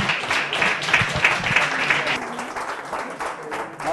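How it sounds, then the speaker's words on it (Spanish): Brief round of applause from attendees at a PHP community meetup, a modest crowd clapping steadily before it tapers off. "Un aplauso"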